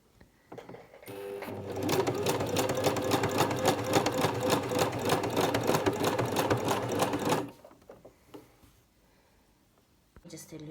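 A sewing machine stitches denim cargo pants, running in one steady, fast, close burst for about six seconds before stopping, followed by faint handling and a voice speaking near the end.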